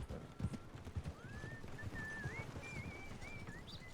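Horse hooves clip-clop at a walk in the RedM video game: irregular soft thuds, fairly faint, with a thin whistling tone drifting above them.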